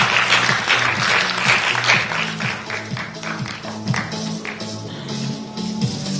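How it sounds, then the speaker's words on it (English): Audience applause at a sustainability awards ceremony, a sustained round of clapping that starts full and gradually thins, heard over a low rhythmic music bed. "this audience will give you a good round of applause"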